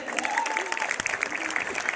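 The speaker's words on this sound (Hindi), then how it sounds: "एक बार उनके लिए जोरदार तालियां" Loud audience applause at a corporate marketing event, a dense steady clatter of many hands with a voice speaking faintly underneath.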